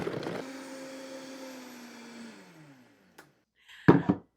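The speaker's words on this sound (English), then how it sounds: "Time to blend." A blender whirs through lemon drink ingredients with a steady motor hum that slowly winds down and stops after about three seconds, followed by a brief tap and a couple of louder clunks near the end, with no talking.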